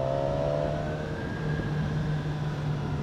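Engine of a BMW S1000XR motorcycle ridden on mountain roads in Andorra, a steady close whirring drone with a constant tone and rushing wind, no talk.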